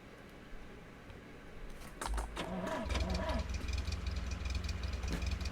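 A car engine in The Long Drive video game starts up and settles into a steady, low idling rumble, loud and close, with no talk over it.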